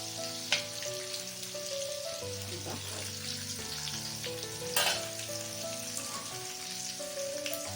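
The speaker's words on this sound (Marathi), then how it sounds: "ह्याला आपल्याला तो उलटायचं आहे एक साईडने शिजली आहे आता दुसऱ्या बाजूने शिजून घ्यायची" Stuffed bitter gourds fry in a pan with a steady, soft sizzle that runs the whole time under prominent background music.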